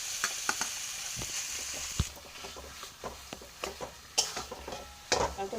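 A mashed potato mixture with chili flakes and garam masala is stirred in a hot pan. Faint sizzling runs under scattered scrapes and light clinks of the spoon against the pan.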